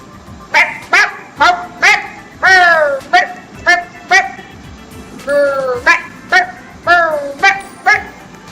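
Synthetic dog barks played from a keyboard sound-effect app, a loud close series of about a dozen short yapping barks in an uneven rhythm, with some quieter whimpering tones between.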